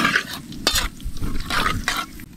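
Curry leaves hitting hot cooking oil with mustard seeds and cumin, a few sharp bursts of sizzle and crackle over a steady frying hiss, close and fairly loud, no one speaking.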